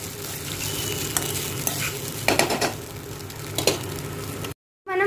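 Egg fried rice being stirred in a hot pan, a steady sizzle with scraping bursts from the utensil, close and loud, then cut off abruptly near the end.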